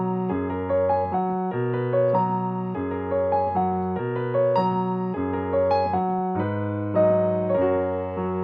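Gospel piano intro with a looping four-to-one bass movement in the left hand and a melody line on top, played as sustained full chords with a steady, unhurried rhythm, alone and close.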